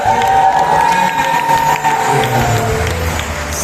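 A church congregation cheering and shouting praise during a service: a sustained, loud crowd roar of overlapping voices and whoops with scattered clapping, steady throughout.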